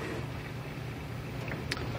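An LG 5.1 washing machine filling with water gives a steady, rushing hiss of spraying and pouring water at moderate level, with a couple of faint clicks near the end.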